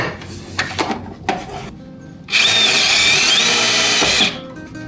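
A few clanks of handling metal, then a loud whining power drill runs steadily for about two seconds, drilling a hole in metal for a differential breather, before stopping.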